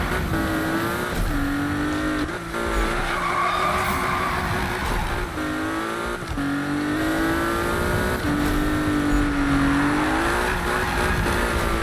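Car drifting in Need for Speed 2015, a loud continuous engine drone with rising and falling revs and long tire squeals through the slides, no voices.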